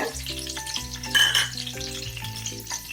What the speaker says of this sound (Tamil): நான் மீடியம் ஃப்ளேமுக்கு மாத்திட்டு இப்போ கடுகு சேர்த்துக்கிறேங்க. அதுக்கப்புறம் கருவேப்பிலை சேர்த்துக்கிறேன்.